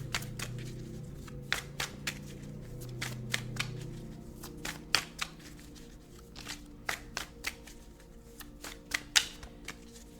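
Tarot cards are shuffled by hand for a reading, a quiet, close series of crisp riffling slaps and flicks at an uneven rhythm, with a soft tonal drone of background music running underneath.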